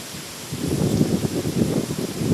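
Typhoon wind under a Hong Kong No. 9 signal starts quietly, then picks up into rough, roaring gusts that buffet and rustle nearby. It stays loud, with no clear speech.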